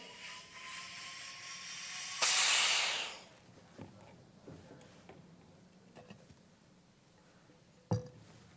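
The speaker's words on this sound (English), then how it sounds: "Carefully let the air back in." Air rushes back into a vacuum chamber after water has been boiled in it, a loud hiss lasting about a second that fades out, followed by faint clinks and a sharp tap.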